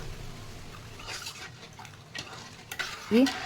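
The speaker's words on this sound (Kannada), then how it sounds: "ಅದು ಬೆಲ್ಲ ಕರಗೋವರೆಗೂ ಚಮಚಲ್ಲೇ ಕೈ ಆಡಿಸ್ರಿ" A spoon stirs jaggery and milk in a pan with soft, repeated scraping and swishing strokes and a faint sizzle, ending in a brief metallic clink.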